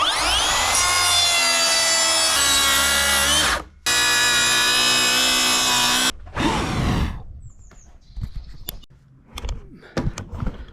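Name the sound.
Makita plunge saw on rail cutting wood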